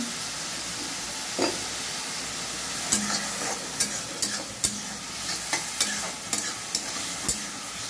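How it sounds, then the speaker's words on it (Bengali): Onion and tomato, lightly salted, sizzle in a pan for ghugni as they brown, a constant near hiss with intermittent clinks and scrapes of a stirring spoon in the second half, no speech. "হালকা ব্রাউন ভাজা হতে থাক"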